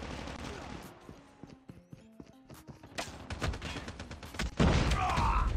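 Gunfire from the Striker shotgun in ranked COD Mobile play crackles in several bursts and scattered single shots, close and sharp, rising to a loud dense volley near the end.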